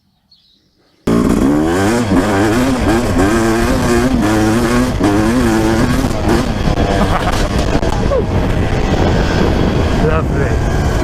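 A two-stroke 250 dirt bike engine roars loud and close after a brief quiet start, revving up and down in rising and falling waves before holding a steady, raspy drone.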